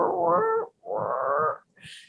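A human voice mimics a cat meowing with a chipmunk in its mouth, giving two long, muffled, strained meows in a row and then a brief breathy sound.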